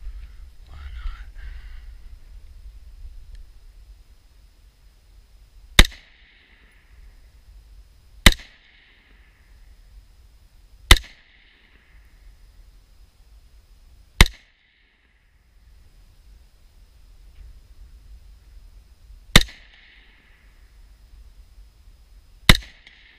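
Six sharp rifle shots ring out at several-second intervals as a magazine is emptied at an AR-500 steel plate, each a loud, crisp crack over quiet low rumble, with faint murmuring at the start.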